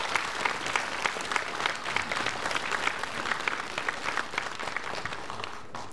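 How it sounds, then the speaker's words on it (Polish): An audience claps at a theatre's 25th anniversary performance in a cultural centre, a dense, even wash of applause sustained throughout at moderate loudness with no talk over it. "Bardzo proszę o brawo."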